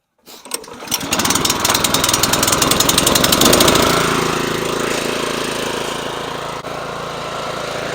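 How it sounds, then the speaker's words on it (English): A 25-inch California Trimmer Catalyst verticutter engine starts with a brief rough catch and then settles into a loud, steady running drone close by, with no talking over it. "Alright guys, let's go ahead and start it up here. Got my fuel on, choke off, turn to the on position, give it a little bit of throttle."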